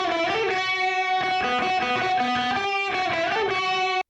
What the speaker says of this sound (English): okay, that's a guitar.